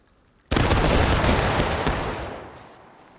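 A loud musket volley rips out at once in a Civil War battle in War of Rights, a dense crackling wall of many rifles firing together that holds for over a second, then fades into a long rolling echo across open farmland.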